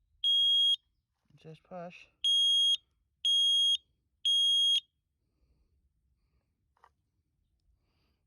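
A new Kidde smoke alarm with a 10-year sealed battery goes off after its test button is pressed: four loud, shrill, evenly spaced beeps, with a short spoken remark between the first and second.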